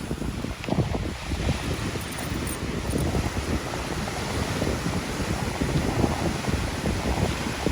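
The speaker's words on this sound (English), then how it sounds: "you can already hear the waves breaking" Ocean surf rumbles and crashes continuously in the distance as waves break on cliffs at Newport, Rhode Island, mixed with gusts of wind buffeting the microphone.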